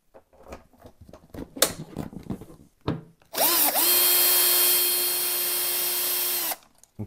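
A power tool drives out screws from the seat of a Yamaha FJR 1300 motorcycle, giving one sustained high whine of about three seconds at close range after some handling clatter.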